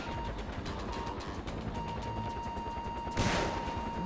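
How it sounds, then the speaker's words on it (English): Big missile launcher fired in Far Cry 4, preceded by a rapid train of gunfire-like bursts and ending in a loud, broad whooshing blast near the close. "I finally get to use my really big fancy missile launcher"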